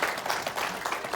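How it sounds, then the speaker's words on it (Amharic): A church congregation at Debre Tsion Mariam in Sydney applauds, a brief burst of dense clapping lasting about a second. "ለራሳችሁ አጨብጭቡ"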